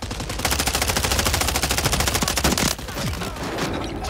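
Rapid automatic gunfire in a first-person shooter video game, a dense, steady stream of shots for nearly three seconds, then thinner, scattered firing and game noise.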